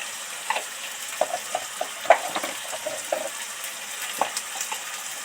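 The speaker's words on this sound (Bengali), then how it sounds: "এবার ধরে ধরে ভালো করে ভাজতে থাকবো মশলাটা" Ground spices with turmeric and chili powder frying in oil while being stirred, giving a steady soft sizzle broken by scattered light scraping clicks from the spoon, close up with no voices.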